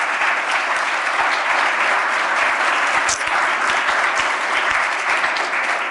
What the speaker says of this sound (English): we will give them a warm applause and thank them for a wonderful work